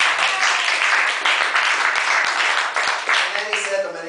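A loud, dense round of audience applause at a talk fills the room, steady and sustained, with a voice faintly audible near the end.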